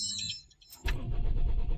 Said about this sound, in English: just start the car if you got power steering